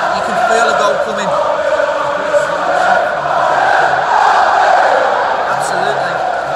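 Football crowd at the Hawthorns stadium, a loud continuous roar of voices swelling and chanting across the whole stand, steady and enveloping.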